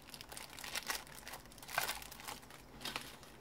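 The unopened plastic wrapping on a cigarette case crinkles close by in a few soft, irregular bursts against a quiet background.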